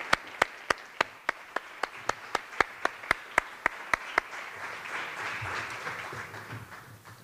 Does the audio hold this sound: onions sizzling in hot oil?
no